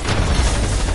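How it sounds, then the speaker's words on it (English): Loud, dense bursts of pistol gunfire in a shooter video game, heavy and booming, packed close together. "Got him with the pistol."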